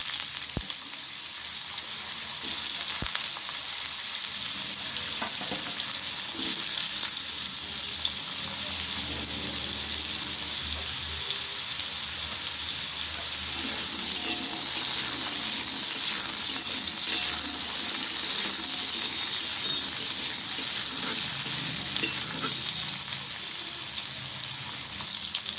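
Potatoes fry in hot oil with five-spice seeds in a pan, giving a continuous bright sizzle with faint stirring clatter. The sound holds steady throughout with no talking.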